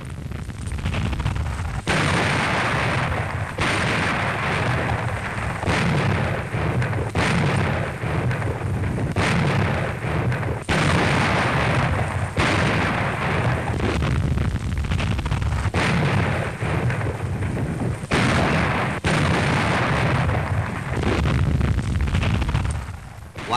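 Heavy artillery-style gunfire from American tank destroyers during the Battle of the Bulge, a continuous barrage of loud booming shots and rumbling blasts repeating every second or two across the whole stretch, with no talk.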